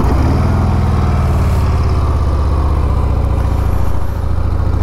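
A 2023 Harley-Davidson Softail Breakout on its stock exhaust idles loudly and steadily close by, a deep, even, lumpy thrum that continues without pause.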